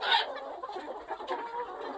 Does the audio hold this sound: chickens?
yes